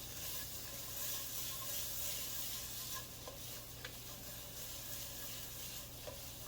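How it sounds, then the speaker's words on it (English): Onions sauté alongside pan-seared potatoes in a pan, a soft, continuous sizzle with faint stirring and tossing scrapes, fairly quiet and even throughout. "now we're going to add our onions right inside. Let them all cook and the flavors get to marry together"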